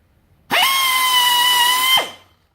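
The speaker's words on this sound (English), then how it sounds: "Now I've just got to drill the holes, which we have the power drill. Well, it's actually air drill." An air drill drilling holes in wood for a native bee box whines at high, steady pitch for about a second and a half, starting abruptly and then winding down, close and loud.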